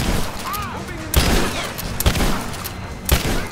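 Rapid bursts of gunfire and loud booming shots in Rise of the Tomb Raider gameplay, dense and continuous, with several heavy impacts standing out from the sustained firefight noise.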